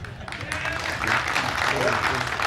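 Scattered, half-hearted audience clapping at a conference in Goa, a thin, uneven patter that stays fairly faint and runs under and around talk for a couple of seconds.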